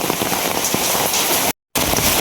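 Heavy rain pours in a dense, steady hiss, broken by a brief full dropout before the downpour resumes.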